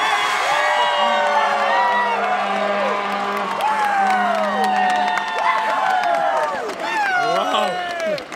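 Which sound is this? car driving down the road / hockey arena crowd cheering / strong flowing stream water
hockey arena crowd cheering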